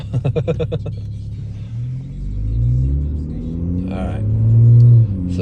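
A 2007 Lincoln MKZ engine, one with a fuse-blowing wiring fault, opens with rapid rhythmic pulses, then settles into a close, steady rumble that swells twice as it revs.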